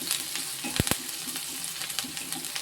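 Curry leaves, green chillies and spices sauté in hot oil for mango rasam, making a steady crackling sizzle with a couple of sharp metallic clinks from stirring, heard alone.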